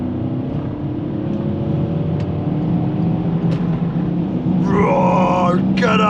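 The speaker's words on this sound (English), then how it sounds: "A little change in the exhaust note there" A 2008 Porsche Cayenne GTS engine drones steadily, then the exhaust note rises sharply into a brief rev near the end, close by with no talking.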